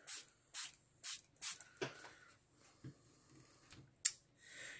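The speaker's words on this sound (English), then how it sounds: "So I'm just going to spray these down." Tissue paper sprayed down with a handheld spray bottle: a run of short, crisp hissing bursts, several in quick succession, then a few softer spritzes with quiet pauses between.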